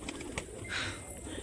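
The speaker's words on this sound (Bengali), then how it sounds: "নর পায়রাটা" A male pigeon coos on a rooftop where the birds roam free, a few soft, low throaty calls close by, with a brief brighter swell in the middle of the short clip.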